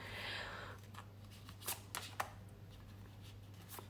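Tarot cards are shuffled close by in a few quick riffling bursts, with soft papery flutters in an otherwise quiet room.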